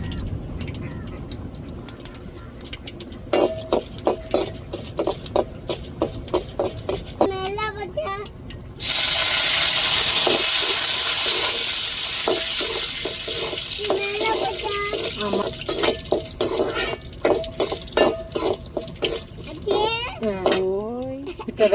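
Chana dal dropped into hot oil in a home kitchen, a loud steady sizzle bursting in midway and continuing under a child's and an adult's chatter.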